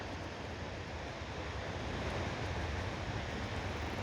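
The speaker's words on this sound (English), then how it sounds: "You can probably hear the sounds of the waves of the ocean" Ocean waves on a beach at dawn, a steady broadband wash of surf with soft wind, continuous and moderately loud without distinct breaks or voices.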